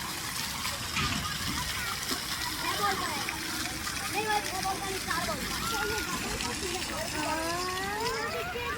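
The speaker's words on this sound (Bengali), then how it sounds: "ঝর্ণাটা দেখো কি সুন্দর" Water falling and splashing from a park fountain, a steady wash of spray with a child's and adult's voices chattering over it throughout.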